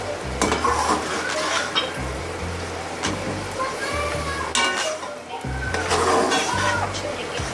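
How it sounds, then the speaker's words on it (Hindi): Chicken pieces frying in tikka masala spice paste, sizzling in a pot while a spoon scrapes and stirs in bursts, with metallic clinks and background voices. "अब आप अगेन इसके अंदर यही चिकन जो है डाल के आप इसको इस मसाले के अंदर भूनेंगे थोड़ा।"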